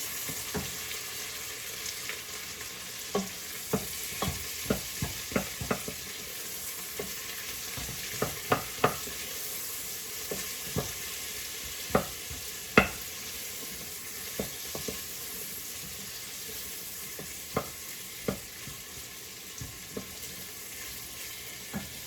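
Onions, garlic and ginger sizzle steadily in a hot pan, with scattered clicks and scrapes of a utensil stirring throughout.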